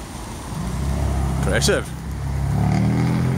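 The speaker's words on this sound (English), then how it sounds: "That's the exhaust, 6 series BMW." A BMW 6 Series exhaust sounds at a roundabout in Stirling: a loud, steady engine rumble that swells as the car passes nearby, with someone speaking over it.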